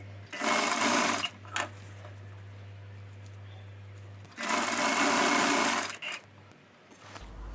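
A sewing machine runs a normal top stitch while stitching thread piping on a blouse. Two close, loud bursts of rapid stitching are separated by a quiet pause, with a steady low hum continuing underneath.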